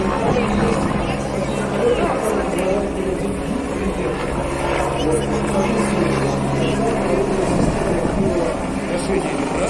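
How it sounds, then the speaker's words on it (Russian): A helicopter engine and rotor drone steadily and loudly throughout, with no break in level, beneath a busy crowd with voices mixed in. "Вертолет"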